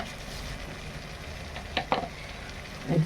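Masala and tomato frying in a pan with a steady soft sizzle, broken by a few brief stirring clinks and scrapes.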